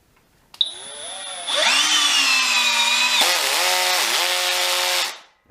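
A Milwaukee M12 CPD cordless drill drives into a piece of wood, spinning up with a sharp whine, straining steadily under load for several seconds, then winding down abruptly; the sound is close and alone, with no talking.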